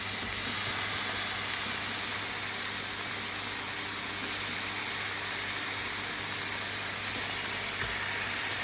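Sausages and bacon medallions fry in a pan with a steady, dense sizzle and hiss that holds loud and unbroken throughout, with no talking.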